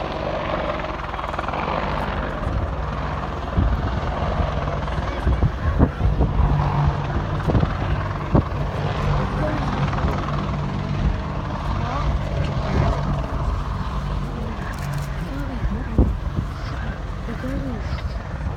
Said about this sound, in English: the British Army Apache attack helicopter